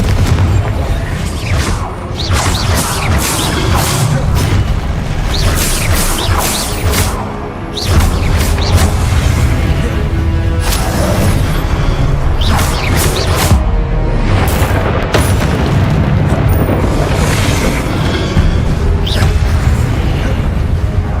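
Confringo blasting spells in Hogwarts Legacy, booming explosions and whooshing spell impacts repeating throughout in a dense, loud barrage of crashes and bursts.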